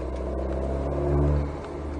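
An Alpine A110S 292 hp race car accelerating on the Nogaro circuit, a steady loud engine drone heard from inside that swells briefly midway then settles back.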